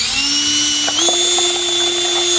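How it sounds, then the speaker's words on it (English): A power drill whines loudly and steadily as it bores drainage holes into plastic seed-starting containers for tomatoes, its pitch stepping up partway through with small clicks of the bit biting in. "I'm just going to drill right into these 3 like this."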